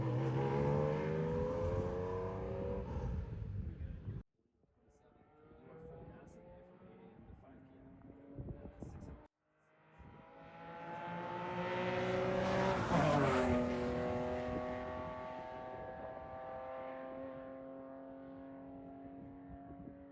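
Porsche GT3 RS on a hot lap around a track, engine rising and falling through gears with sharp shifts and a long high-revving pull. Speech is heard over it.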